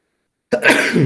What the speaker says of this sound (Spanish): yo no sé quién estaba estornudando